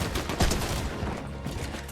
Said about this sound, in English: I hear my person shooting over here.